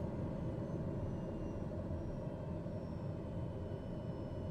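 Steady, loud drone of an airplane engine in the Flight Simulator 2020 video game, holding an even tone throughout with no talk over it.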